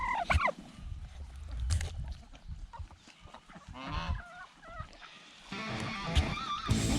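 Turkeys gobble and honk repeatedly while being fed, rapid warbling calls overlapping in bursts, close and lively, with shuffling and clatter in between.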